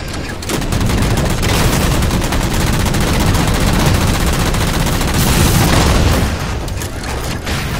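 Rapid gunfire in the Halo 4 video game as jammers are shot down, a dense, continuous burst of loud automatic shots and booms filling the whole stretch without pause.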